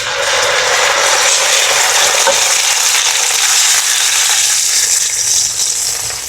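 Onions and pineapple juice are stirred in a hot pan for tilapia in pineapple sauce, making a loud, steady, close-up sizzling hiss with continuous stirring and no pauses.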